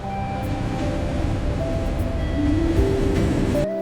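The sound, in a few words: train waiting at railway platform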